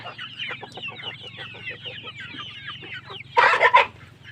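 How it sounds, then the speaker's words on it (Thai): Chickens cluck in a steady run of soft, close calls while eating grass, ending in a brief louder flurry of squawks. "ไก่นี่กินไม่รู้จักยิ่มใช่ไหมเนี่ย"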